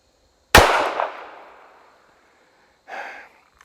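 A single sharp, loud pistol shot from a SIG Scorpion Carry fired at an outdoor range, its report ringing out and decaying over about a second and a half, followed by a softer brief rustle or clatter.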